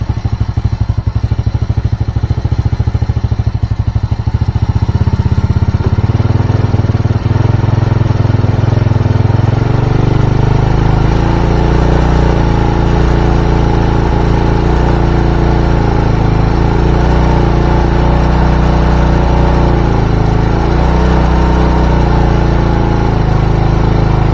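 A Honda Supra motorcycle engine with heavy fuel use, a black-fouled spark plug and hard morning starts runs loud and close, climbing to a higher, steady revving drone partway through.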